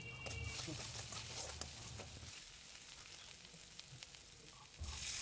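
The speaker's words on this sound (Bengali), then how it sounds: "নুন, হলুদ, লঙ্কা গুঁড়ো ভালোভাবে কষিয়ে নিচ্ছি" Salt, turmeric and chili powder sautéing in a pan for a fish curry, a quiet, continuous sizzle with faint stirring scrapes and a low hum underneath.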